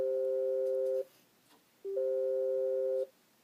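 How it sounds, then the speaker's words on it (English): Two sustained electronic tones from a touchscreen, each about a second long, separated by a short silent gap, clear and close with no talking. "we hear those two musical tones when we touch the screen"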